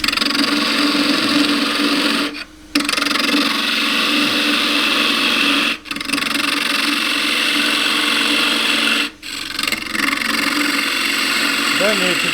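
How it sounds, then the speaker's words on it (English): A scraper cuts into a small natural-edge wooden bowl spinning on a lathe, a loud continuous rasping whir broken by three brief pauses, with someone talking over it. "I'm just going to deepen that, which I'll do with the scraper"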